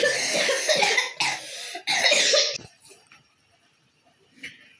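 A run of loud, harsh coughs, several bursts in quick succession up close, then quiet with a faint short cough at the end.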